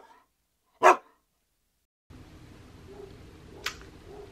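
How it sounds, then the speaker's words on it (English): A pet dog gives a single sharp bark in a quiet indoor room, followed after a pause by low room noise and a fainter short yip. "This is my dog here."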